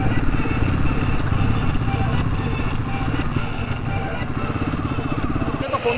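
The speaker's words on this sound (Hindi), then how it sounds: "एग्जॉस्ट बहुत लाउड है ना" A motorcycle with a loud exhaust rumbles steadily with a deep, throbbing idle close by, continuous throughout, while someone talks over it.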